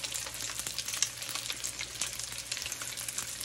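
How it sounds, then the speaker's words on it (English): Thin fish fillets frying over medium heat in a mix of melted butter and extra virgin olive oil, a steady crackling sizzle with bursts of popping that stays close and constant, with no voices. "melt 50 parts butter, 50 parts extra virgin olive oil, and it's time to lay our fish down"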